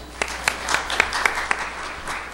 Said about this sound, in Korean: 박수를 좀 부탁드리겠습니다